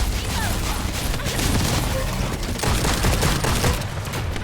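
Continuous video game gunfire blasts the shields off a boss, a dense, loud barrage of shots and crashes that runs without pause.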